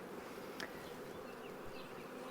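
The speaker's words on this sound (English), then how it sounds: "we're gonna shake all these bees out on the lawn" Honey bees buzz steadily around an open hive outdoors, a dense, continuous hum of many insects close by, with a few individual bees passing nearer.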